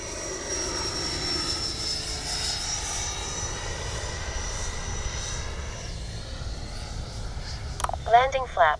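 An FMS 80mm F-86 RC jet with a ducted fan flies overhead, its steady whine sweeping and shifting as it passes, with a sharp mechanical whir near the end as the landing gear comes down.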